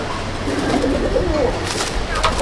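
Madrasi pigeons cooing close by, soft throaty coos rolling on and off over a low murmur of background noise, with no talk heard.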